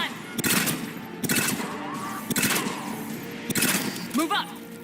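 A mounted gun fires in bursts during a Mass Effect 3 battle, loud rapid volleys repeating four times amid combat noise, with voices shouting over the gunfire.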